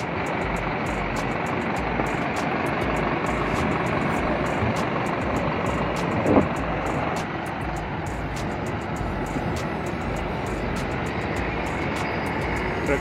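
A Prakash Capella 13.5-metre AC sleeper bus of Sri Keerthana Sai Travels idles with a steady, close, unbroken engine drone and no voices, with only a faint brief click partway through.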